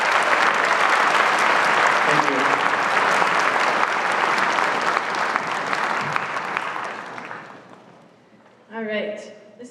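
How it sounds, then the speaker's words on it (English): Sustained audience applause at a school spring orchestra concert, a dense steady clapping that fades toward the end before someone speaks briefly. "Let's give him another round of applause."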